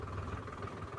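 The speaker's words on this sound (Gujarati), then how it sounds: "જેસીબી વાહન" A JCB excavator's diesel engine idles in a steady, low, even rumble, faint and somewhat distant, with no voices over it.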